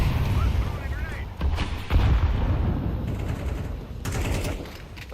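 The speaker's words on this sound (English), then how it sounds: "Let's throw a grenade." Heavy explosive bursts and gunfire in a Counter-Strike 2 match as a grenade goes off, several rumbling blasts under voices talking.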